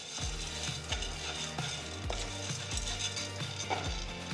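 Channa dal roasting in ghee in a pan, a continuous close crackling sizzle with a regular rhythm of stirring scrapes about every half second, with no speech.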